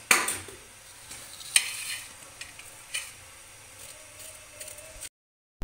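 Homemade khoya stirred in a pan with a spoon, soft scraping and a faint sizzle under a few sharp clinks of utensil against metal, close and fairly quiet, ending in silence.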